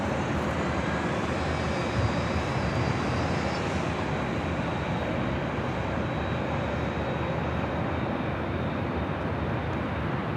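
Airliner jet engines roaring on a runway at LAX, a steady broad rumble and whine holding at constant loudness throughout, with no speech.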